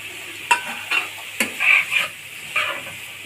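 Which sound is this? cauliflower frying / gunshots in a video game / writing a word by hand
cauliflower frying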